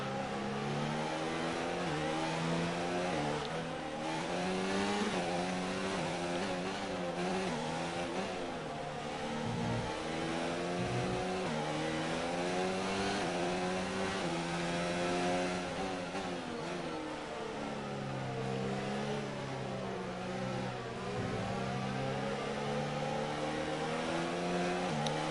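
F1 car engine in F1 2019 at the Canadian Grand Prix revving up through the gears, repeated rising whines stepping down at each shift, loud and continuous with a sustained mid-pitched drone, no speech.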